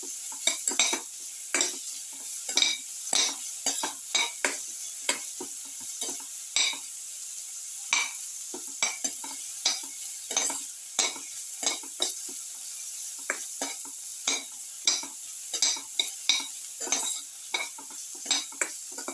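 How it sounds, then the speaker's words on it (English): Winter melon sautés quietly in a pan while a utensil scrapes and taps it in a quick, uneven rhythm of many short stirring strokes over a faint steady sizzle. "You can saute."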